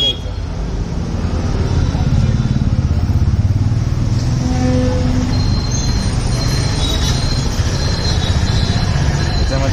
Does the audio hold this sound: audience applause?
no